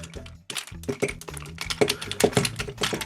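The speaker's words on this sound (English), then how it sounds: "Satisfying locking clicks." Plastic locking clicks from a Tobot V Regent transforming toy as its parts are folded and snapped into place, a close, busy run of sharp taps and ratchets without talk.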